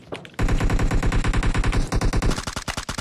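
Sustained automatic gunfire in a zombie-mode shooter game, loud and continuous rapid bursts that start abruptly after a short quiet lead-in and run to the end.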